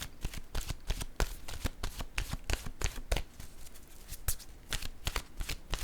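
A deck of oracle cards is shuffled by hand, producing a steady, close run of crisp riffling flutters and slaps that lasts throughout.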